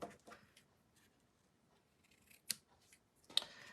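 Scissors trim die-cut paper for a handmade card, with a few sharp, close snips standing out against a quiet background, the last two especially crisp.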